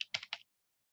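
Three quick, close taps on a computer keyboard while renaming a layout in AutoCAD, crisp and light, then silence.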